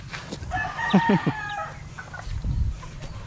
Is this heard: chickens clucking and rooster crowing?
yes